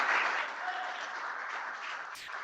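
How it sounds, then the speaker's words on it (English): Audience applause at a founder showcase event, a dense steady wash of clapping that holds for a couple of seconds at moderate loudness. "A big round of applause for the big man"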